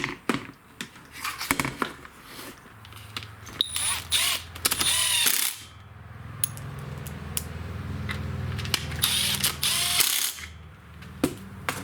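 Screws are driven into a STIHL FS56 string trimmer under repair for squealing, with bursts of ratcheting clicks and metallic tool handling, some louder stretches and short pauses between, no talking.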